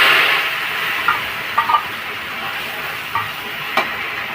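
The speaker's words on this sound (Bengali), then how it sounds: "একটু কালো জিরে ফোড়ন দিয়ে দেবো" Nigella seeds tempering in hot oil for a ridge gourd peel mash, a continuous sizzle with several sharp crackles and pops at irregular intervals, close and fairly loud.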